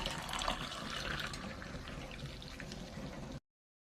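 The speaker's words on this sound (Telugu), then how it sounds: "నీళ్ళు వడపోసుకుందామండి." Guava leaf decoction being strained, a steady close pouring and trickling of water with a constant wet rush that holds evenly for a few seconds, then stops abruptly.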